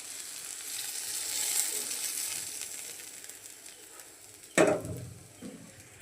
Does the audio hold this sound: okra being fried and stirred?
yes